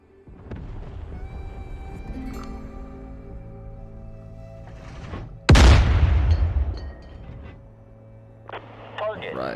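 A single heavy boom of gunfire erupts in the DCS combat flight simulator, sharp and loud, then rolls off into a fading rumble over a background of steady electronic tones and engine drone.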